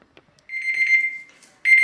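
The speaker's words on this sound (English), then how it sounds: "So we're gonna set our timer." Kitchen timer going off with a loud, piercing electronic beep, one sustained tone that fades, then a second burst starting right after a short pause, close by with no speech.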